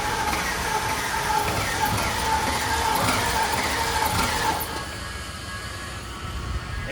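A supercar with an electrical fault cranks and tries to fire, a steady loud churning engine noise that drops in intensity partway through and continues more quietly.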